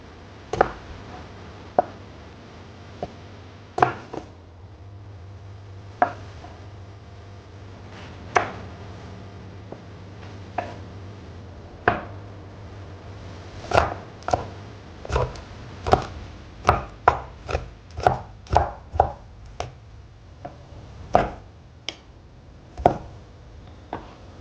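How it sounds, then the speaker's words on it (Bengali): Knife chopping ingredients on a board, sparse single cuts at first, then a quicker run of crisp close chops near the end, with a low hum in the background for part of it. "এইগুলো একটু কেটে নিই।"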